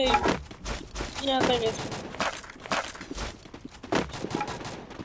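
Bursts of gunfire in a battle royale shooter, sharp cracks and short volleys spread unevenly, with footsteps and players talking over them.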